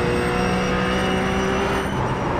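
Engine of a RUF GT3 race car in the iRacing video game, held in a single gear across the top of Mount Panorama, a loud steady drone with sustained tonal whine and no talk.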